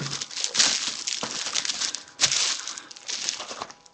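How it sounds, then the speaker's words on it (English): Close crinkling and rustling of plastic wrap being pulled and peeled off a sealed Duel Masters DM-10 starter deck, with two sharp louder tears among the steady crackle. "Get all this plastic off of it."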